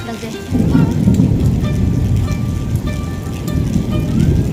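Steady heavy rain pours down outside a home during hot weather, a dense continuous patter close by with low rumbling underneath.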